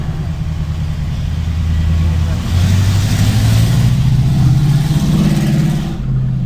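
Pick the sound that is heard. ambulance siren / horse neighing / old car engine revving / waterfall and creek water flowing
old car engine revving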